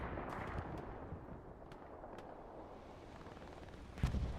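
Artillery guns fire in the World War II game Hell Let Loose, with a few sharp distant reports over a low rumbling battlefield and one louder, closer blast near the end.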